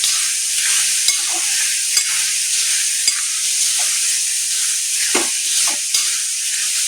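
Soaked puffed rice being tossed and mixed in a pan for sushila, a steady dry scraping and rustling with soft clicks of a spoon against the pan, continuous and close throughout.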